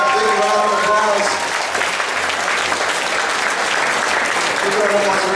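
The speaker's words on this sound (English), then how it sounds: "Yeah, big round of applause." An anime convention costume contest audience breaks into loud, dense applause that fills the whole stretch, with some speech and crowd noise mixed into the clapping.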